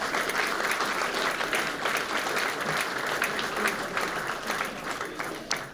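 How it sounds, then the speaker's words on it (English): Audience at a manufacturing awards ceremony giving a warm round of applause, continuous even clapping from a large crowd that holds steady and then begins to taper off. "Can we start the second half of proceedings with a warm round of applause for Marissa Soroka,"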